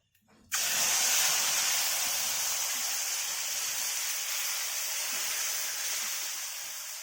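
A spice paste of Kashmiri chilli powder, turmeric and chilli hits hot oil for an okra kasundi dish, bursting into a loud, sustained sizzling hiss after a brief quiet moment, then holding steady and fading only slightly.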